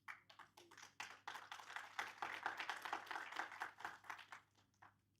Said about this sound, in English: So I would like to applaud you.